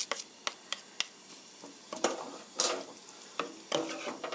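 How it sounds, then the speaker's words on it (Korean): Sesame oil being stirred into a soybean paste spaghetti sauce, giving soft scraping and clicking strokes spaced irregularly, close and fairly quiet, with a light sizzle underneath. "세사미 오일, 참기름 1 테이블스푼 넣어서 고루 저어주세요"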